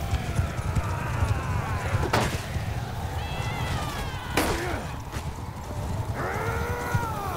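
Horse hooves clatter through a medieval video game battle, a continuous soft patter of clip-clop under battlefield noise, punctuated by a couple of sharp impacts and brief whinny-like cries.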